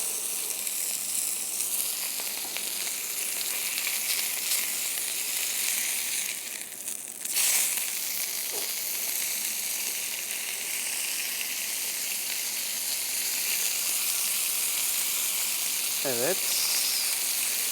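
Burger patties sizzling steadily in a frying pan at home, a constant bright crackling hiss throughout with a brief dip midway; a voice speaks a single short word.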